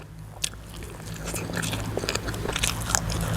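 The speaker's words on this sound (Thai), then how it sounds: "ได้กินผักขา ระซุ่มนี่สิบ่ค่อยกรอบปานใดครับ" Close-up crunchy bites into raw phak kha, a pungent leafy vegetable eaten with spicy Thai papaya salad, rice noodles and crispy pork, with repeated crisp snaps and chewing crunches in an uneven rhythm.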